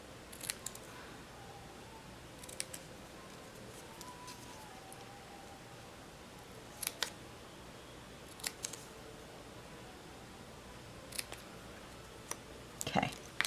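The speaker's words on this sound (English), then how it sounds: "I'm going to grab my paper snips and I'm going to pennant the ends on this" Paper snips make a few sharp, quiet cuts through a gold foil sheet while ends are trimmed into a pennant for a handmade card, heard as scattered crisp clicks over a hushed room.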